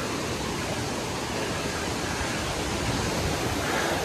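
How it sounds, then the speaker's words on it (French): Spring water pours steadily beside a small waterfall inside rock, a loud, continuous rushing hiss with no voices. "Là, la source elle coule là."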